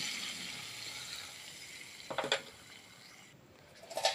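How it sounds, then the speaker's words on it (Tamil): Quiet sizzling hiss from hot tempering poured into a simmering mango fish curry, with two brief louder crackling bursts. "இப்போ அந்த தாளிப்பை அந்த குழம்புக்குள்ளே ஊற்றிடணும்"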